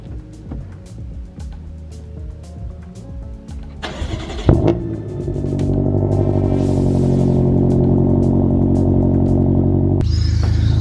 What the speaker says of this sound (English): I'm gonna start up the car right now.